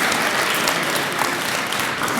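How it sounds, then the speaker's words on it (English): Brief burst of dense clapping from an audience at a high school career exploration event, loud and steady throughout as the crowd applauds the speakers. "You guys give them a round of applause for that,"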